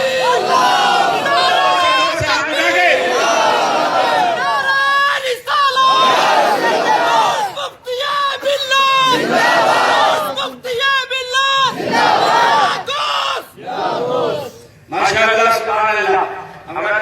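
Large crowd of young men chanting slogans in loud call-and-response bursts, roaring together with brief pauses between, at a religious gathering with a speaker.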